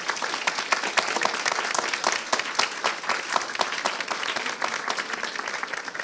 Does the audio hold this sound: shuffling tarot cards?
no